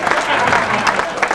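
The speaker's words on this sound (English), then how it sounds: "A big round of applause for Chris and Kate there, thank you very much." Wedding guests clap at an evening reception, a brief dense burst of applause close by.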